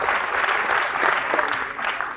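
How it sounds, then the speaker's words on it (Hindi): A roomful of people at a sales seminar applauds loudly and steadily, a thick continuous wash of clapping that carries through the whole moment. "जोरदार तालियां विवेक के लिए।"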